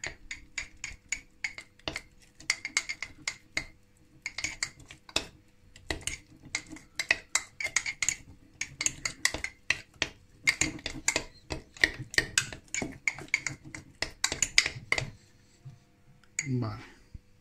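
Close, repeated scraping and clinking of a utensil stirring sourdough starter inside a container, coming in quick irregular bursts that continue steadily before trailing off at the end.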